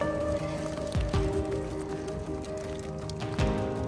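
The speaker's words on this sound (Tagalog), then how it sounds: "Pag tumila na ulan, saka tayo gagawa ulit. Grabe, lakas eh." Heavy rain pours steadily outdoors over a garden, a dense, continuous hiss with occasional louder splashes and thumps close by.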